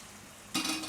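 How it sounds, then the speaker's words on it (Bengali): Bengali-style masala spice paste for ghugni hits hot oil and bursts into a loud, steady sizzle after a brief quiet moment, crackling close up with some stirring. "এবার আমি মশলাটাকে খুব ভালো করে কষিয়ে নেব যতক্ষণ না পর্যন্ত মশলা থেকে তেল ছেড়ে আসছে"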